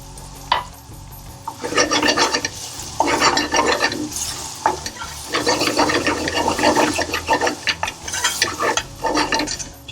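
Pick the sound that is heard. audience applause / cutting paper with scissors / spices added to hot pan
spices added to hot pan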